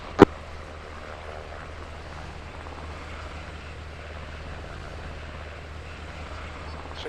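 An aircraft in the Arma 3 video game on final approach to a landing pad, a steady droning engine hum that holds evenly throughout after a brief sharp click at the start.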